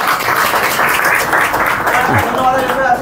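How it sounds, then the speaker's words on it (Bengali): A church gathering applauds a guest who donated Bibles, a loud continuous clapping with voices mixed in throughout. "সকল হাততালি ওনার জন্য"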